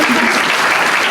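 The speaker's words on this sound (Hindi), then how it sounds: "तालियों से इनका स्वागत" Dense applause fills a hall as an audience welcomes Vivek Kumar, winner of a best humour award, a brief continuous burst of loud clapping.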